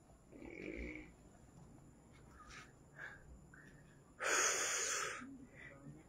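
Heavy panting from a hiker climbing uphill on the trail to Kamay ni Jesus in Lucban, Quezon Province: faint, raspy, wheezing breaths with one louder gasping exhale, close to the microphone amid quiet outdoor ambience.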